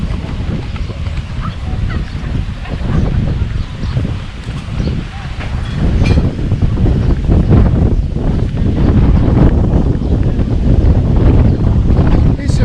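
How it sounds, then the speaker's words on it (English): Steady gusting wind buffets the microphone during a ride along a river at Nakhon Phanom, a loud continuous rumble that swells and strengthens toward the end, with speech buried underneath. "It's a bit windy today."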